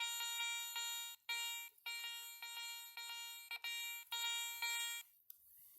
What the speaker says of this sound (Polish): Bardzo ładny sygnał. Też dwa gongi